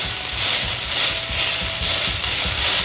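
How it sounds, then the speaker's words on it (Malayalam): A beef burger patty pressed flat in a hot pan sizzles with a steady bright hiss, close and loud, with faint pulsing scrapes underneath and no talking. "നമുക്ക് നന്നായിട്ട് അങ്ങോട്ട് അമർത്തി കൊടുത്ത് സ്മാഷ് ചെയ്യാം കേട്ടോ."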